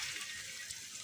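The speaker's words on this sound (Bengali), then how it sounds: "তো তেল ঢেলে দিলাম" Oil being poured into a pan gives a soft, steady liquid hiss lasting about a second, quiet and continuous with no voices.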